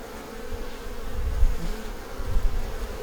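A honeybee swarm buzzes loudly and steadily at close range, a dense droning hum that swells and fades slightly, with no voices.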